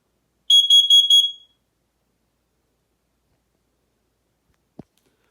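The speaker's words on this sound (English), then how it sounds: "that's pretty standard of the smoke alarm" Smoke alarm sounding during a test, giving a burst of shrill, piercing electronic beeps in quick pulses that stops abruptly, then near silence with one faint low knock.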